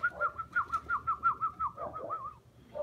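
Pigeons coo in a pigeon loft at feeding time, a run of close, rhythmic coos repeating about twice a second before tapering off, with no talking.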